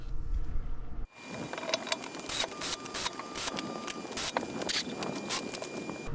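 Mechanical clicking and rapid ratcheting bursts from a tool refitting the rear wheel on a 95B.1 Porsche Macan after a brake job, near and fairly loud with short pauses between runs, in a workshop with no talk.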